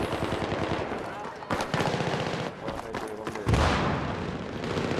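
Gunfire in the video game Battlefield 3: dense, continuous automatic bursts and rattling shots with a heavier thump partway through, loud and busy, with voices talking over it.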